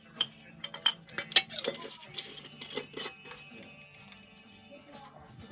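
A spoon clinks and scrapes against a bowl while stirring powdered ingredients, with irregular sharp taps early on that settle into softer scraping, close and fairly quiet.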